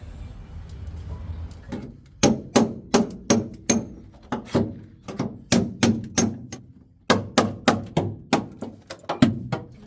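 A rapid series of sharp cracks and snaps as sound deadening material is removed from a Mitsubishi Magna, close and loud, repeating irregularly about twice a second with no talking.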